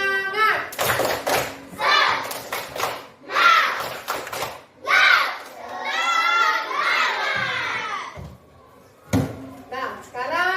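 A school class chants 'tepuk semangat' in unison with children's voices, broken by bursts of rhythmic hand clapping, loud and close.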